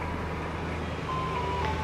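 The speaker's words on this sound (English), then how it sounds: "Here comes the ice cream truck." Ice cream truck passing by a garden in late June, its faint tinkling jingle over a steady hum of traffic and outdoor noise.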